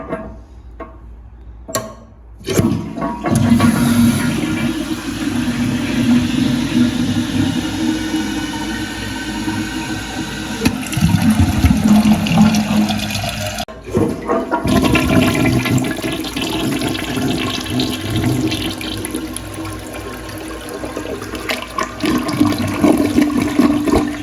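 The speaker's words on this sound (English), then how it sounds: "Let's flush it." A 1965 American Standard toilet with a drop canister flush valve flushes loudly up close, a sharp click of the handle followed by a long rushing, gurgling swirl of water and refilling that continues steadily for over twenty seconds.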